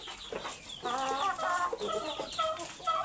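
On a farm with Pahari hens and a young rooster, several birds cluck in quick, uneven bursts of bright chattering calls close by, with no talking over them.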